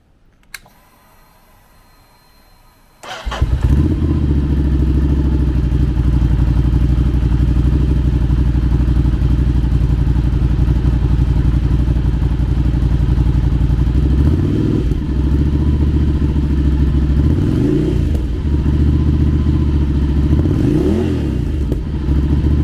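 A 2021 Ducati Scrambler Desert Sled motorcycle engine starts after a brief quiet moment, then idles steadily and loudly, with a few blips of the throttle toward the end.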